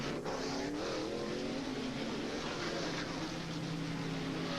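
NASCAR stock cars at the 1990 Tyson Holly Farms 400 accelerate away from pit road during a caution, a continuous roar of engines with rising and falling whines, loud and steady throughout.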